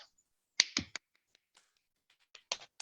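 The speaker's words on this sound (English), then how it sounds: "can you unmute yourselves and just give yourselves a round of applause for sharing from the heart like that?" A few online meeting participants clap over unmuted microphones, giving sparse, thin claps and slaps in small clusters separated by near silence.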